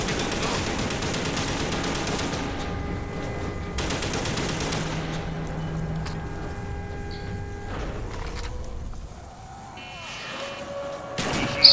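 The Death Machine minigun in Call of Duty Black Ops Zombies fires in long sustained rattling bursts for most of the stretch, then breaks off into a brief quieter gap before a sharp closing crack.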